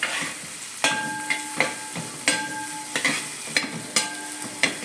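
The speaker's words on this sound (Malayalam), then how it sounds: "വെളുത്തുള്ളി, ഇഞ്ചി. ഇതൊന്ന് വഴന്ന് വരട്ടെ" Green chilli, garlic and ginger sauté in a pan with a continuous light sizzle, broken by regular scraping stirs of a spatula about every half second, close and clear with no talk.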